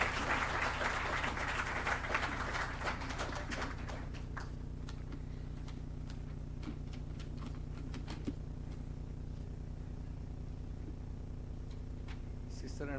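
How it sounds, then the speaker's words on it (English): Applause at a moot court prize distribution ceremony greeting a speaker at the podium, loud at first and then thinning into scattered claps over a steady low hum. "A huge round of applause for sir, everyone."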